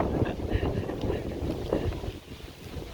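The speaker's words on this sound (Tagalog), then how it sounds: "Pero sama ng panahon, lakas ng hangin." Strong gusting wind buffeting the microphone in a steady roar on a Canada Day evening in Saskatoon, with people talking faintly underneath.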